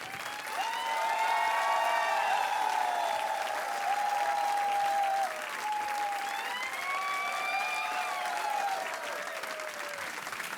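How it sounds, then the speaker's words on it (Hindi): A studio audience on a TV quiz show applauds a guest's arrival with steady, even clapping lasting about ten seconds, while a host and guest speak briefly over it. "Everybody is clapping for you and applauding for you."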